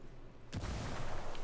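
A frag grenade goes off in the video game Ghost Recon Wildlands inside an underground parking garage, a sudden loud boom with a rumbling tail.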